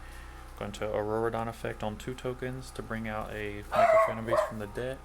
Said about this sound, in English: that's my dog freaking out.